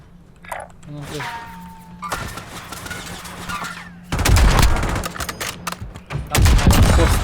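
Gunfire in the video game Warzone: scattered single shots and impacts early on, then loud, rapid bursts of automatic fire and heavy thuds in the second half.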